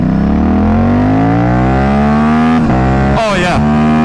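A KTM RS457 with an SC Project S1 exhaust and tuned map accelerates hard in second gear from about 3,000 RPM, its loud engine note rising steadily, with a brief wind or throttle burst near the end.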